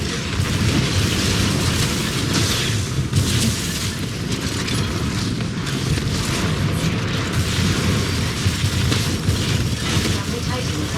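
Titanfall 2 multiplayer: a loud, sustained rumbling roar with booming impacts fills the whole stretch, consistent with a Titan dropping in amid battle noise, while a synthetic voice announces warnings over it.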